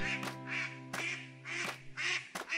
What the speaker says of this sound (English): Swedish Blue Duck.